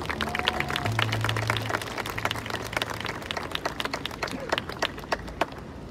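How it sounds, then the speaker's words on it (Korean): Audience applause at a memorial culture event for workers killed in the Aricell factory fire: a dense patter of many hands, strong at first and thinning into scattered claps, with a faint steady tone and murmur beneath. "신경연님에게 따뜻한 박수 부탁드립니다"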